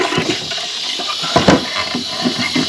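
Water draining and rushing out of household plumbing during a bathroom renovation, a gurgling, splashing flow with bursts and surges, close and fairly loud, no talking over it.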